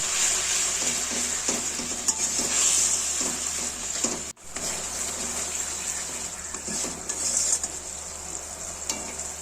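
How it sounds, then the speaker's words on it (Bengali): Yogurt and spice batter stirred in oil left from frying fish, making a loud continuous sizzle with wet scraping stir strokes throughout and a single abrupt break near the middle. "নিয়ে ওই মাছ ভাজার তেলেই আমি ব্যাটারটা দিয়ে দিলাম"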